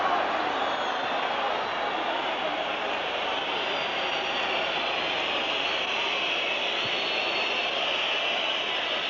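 Steady, far-off roar of a football crowd at the 1991-92 UEFA Cup quarter-final between Genoa and Liverpool, with whistling blending into a continuous wash of noise that holds even throughout, without pauses.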